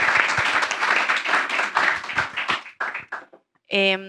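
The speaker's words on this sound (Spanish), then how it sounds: "Aplausos para Eugenio." An audience in a panel discussion on economics and geopolitics applauds a speaker named Eugenio with dense, steady clapping that fades out, and a voice starts talking right after.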